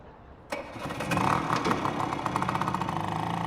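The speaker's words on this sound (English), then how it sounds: "Why are those things so noisy? Bet they fiddled with the exhaust" A loud car engine with a modified exhaust in The Flower Collectors video game roars to life abruptly, then holds a steady, rumbling drone with rhythmic pulsing, close and alone.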